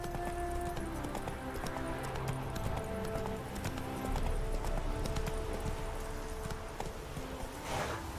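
A horse's hooves clip-clop steadily at a gallop in The Witcher 3, close and continuous over an ambient game soundtrack, with a brief neigh near the end and no talking.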